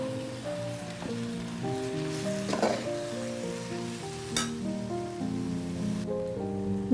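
Tomato, coriander and mint leaves get mixed into a frying pan for beef biryani, a soft crackling sizzle with a couple of sharp stirring clatters beneath steady background music.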